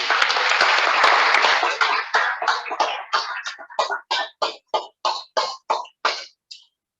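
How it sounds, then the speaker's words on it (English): A meeting audience at a river conservation group's annual gathering applauds its education program, steady dense clapping that thins into scattered individual claps before fading out. "I think we should give a big round of applause for our education program this year"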